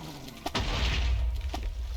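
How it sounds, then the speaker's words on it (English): Explosions in the video game Minecraft during a mob battle: a sharp blast is followed by a rumbling boom, then a second smaller burst, all loud and close. "And smacked by an explosion."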